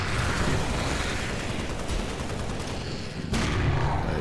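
Dense continuous gunfire rattles through a firefight in the Halo: Spartan Strike video game, loud and close, with a brief dip before a sharp burst resumes.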